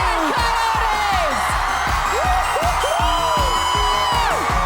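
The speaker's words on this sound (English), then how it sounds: "Listen to this crowd." A live esports event crowd at an arena in Rotterdam roars with loud cheering, whoops and rising yells, a dense continuous wall of voices after a dramatic finish, with a caster's voice faintly mixed in.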